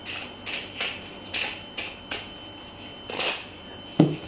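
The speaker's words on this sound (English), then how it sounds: "then we'll give them a quick shuffle or two" Playing cards riffle in a series of quick crisp bursts, about nine short shuffles close to the microphone, ending with a soft tap.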